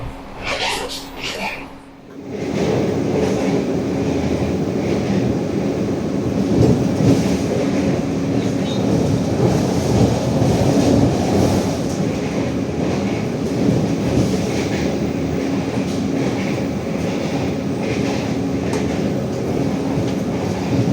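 Steady rumble and rattle inside a moving Argo Anjasmara passenger train in Indonesia, continuous rolling noise with a faint hum, after a brief opening of softer sounds.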